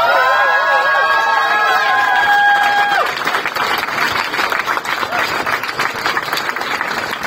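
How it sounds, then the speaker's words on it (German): Audience applause and cheering break out at a union solidarity rally in Berlin, loud dense clapping with crowd shouts, rising after a few seconds of whistles and swelling to fill the rest of the clip. "Fetten Applaus dafür!"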